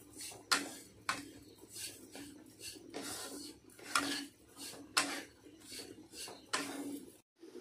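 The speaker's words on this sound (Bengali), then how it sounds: "এবার এর মধ্যে চিনি পরিমাণ মতো দিয়ে দিলাম, দিয়ে ভালোভাবে নাড়াচাড়া করব।" A coconut filling with sugar is stirred in a pan for a pitha sweet, giving repeated rhythmic scraping and rubbing strokes of a spoon against the metal, close and fairly quiet, with no talking.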